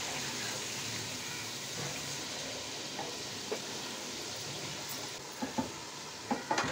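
Shrimp, potatoes and long beans fry in spices in a pan, a soft steady sizzle close by with a few light clinks and stirring knocks near the end, fairly quiet and without talk.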